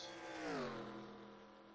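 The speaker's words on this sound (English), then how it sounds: "these first 5 minutes of the session will be cars just mainly getting up to speed and getting in the packs" NASCAR Cup race cars accelerating during Daytona 500 qualifying, a distant engine drone rising and falling in pitch as cars build speed, steady and fairly faint.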